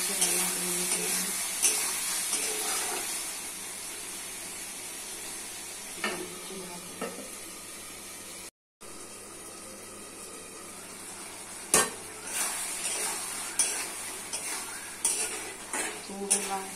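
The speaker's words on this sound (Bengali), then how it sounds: "এইভাবে কষে কষে রান্না করে নিতে হবে।" Pumpkin and potato being stir-fried in a pan, with intermittent scraping and clinking of a utensil against the metal over a steady low sizzle, a few sharper knocks standing out, no talking.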